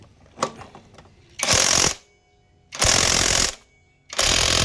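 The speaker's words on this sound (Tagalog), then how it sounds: "Gamit tayo impact wrench." An impact wrench tightens the CVT flywheel nut on a scooter with three loud, sustained whirring bursts, each about half a second to a second long, separated by quieter gaps. Light clicks and handling noises come early on.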